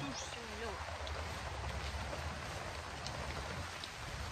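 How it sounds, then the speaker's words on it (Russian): Rain beginning to fall at a summer dacha, a steady broadband hiss of drops on surfaces with a low rumble underneath, continuous and even throughout, with a few faint voices in the background. "вот дождь пошел"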